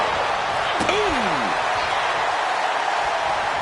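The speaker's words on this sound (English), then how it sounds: "Slamming their face into the mat." A wrestler slams an opponent's face into the mat in the WWE 2K26 video game, giving one sharp thud with a brief swooping effect over steady crowd noise.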